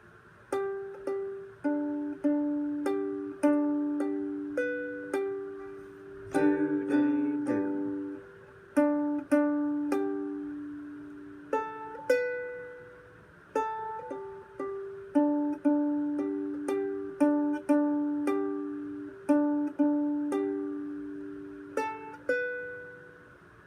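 A solo acoustic guitar picks a gentle introductory melody with plucked notes and ringing chords at a moderate tempo, with no voices.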